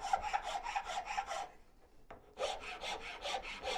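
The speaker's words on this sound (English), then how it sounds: "I just put subtle pressure this direction while I'm using the rasp" A wood rasp files a wooden spoon in quick rhythmic rasping strokes, a steady run of gritty scrapes, a short pause with a single click, then another run of strokes, close and without talk.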